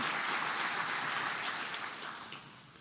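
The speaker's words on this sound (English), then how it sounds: "How about a round of applause for all those folks taking some time out of their schedule?" Audience at Beaumont's State of the City presentation applauds board members, a soft, distant-sounding patter of clapping that gradually thins and fades over about three seconds.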